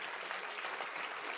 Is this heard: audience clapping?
yes